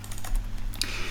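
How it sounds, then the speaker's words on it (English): Computer keyboard typing during a compositing software session, a few quick key presses close to the mic over steady low hum, no voice. "or you can just press O on the keyboard"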